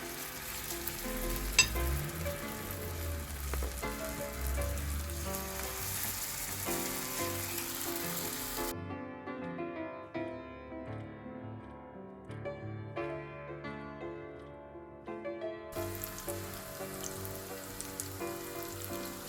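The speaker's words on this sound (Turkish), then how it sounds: "Kaşıkla kabakları koyuyorum kızgın yağın içine" Zucchini fritters sizzle and crackle steadily in hot frying oil, a continuous close bubbling hiss with faint clinks, with no talking.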